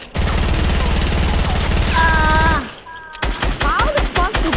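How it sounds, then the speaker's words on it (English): Rapid automatic gunfire in a shooting video game, loud and continuous for over two seconds, then a short pause before more bursts of shots resume. "I'm gonna shoot down the stairs."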